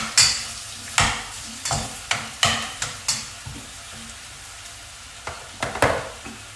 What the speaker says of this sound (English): So I'm sizzling the chicken